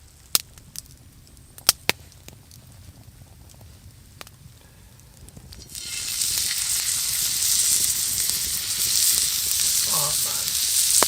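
After a few quiet clicks and taps, steak hits a pan over a campfire and sets off a loud, steady, close sizzle that continues to the end.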